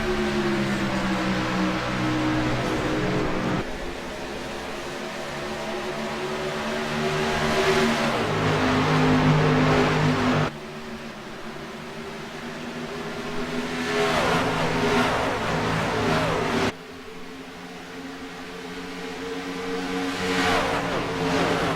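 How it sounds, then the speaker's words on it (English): Race cars roar up to full throttle on a short-track green flag restart after the pace car pulls off, engines loud and sustained, with pitch shifts as cars pass and the sound cuts between close groups. "Dwayne Dunn hits the loud pedal, and he is out of there. Green flag is out."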